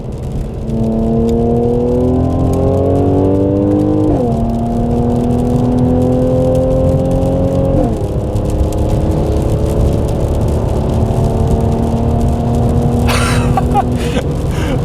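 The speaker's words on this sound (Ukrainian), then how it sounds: "Дивись, вона не перемикає упирается в отсечку и все." Mercedes-Benz C205 engine revving hard and bouncing off the rev limiter, loud and close, with the pitch climbing and then holding flat in repeated pulls through the clip.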